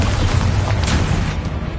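A Bombarda blasting spell detonates in the video game Hogwarts Legacy, heard as a loud, dense, bass-heavy roar of booming debris that rumbles steadily through the whole moment without pause.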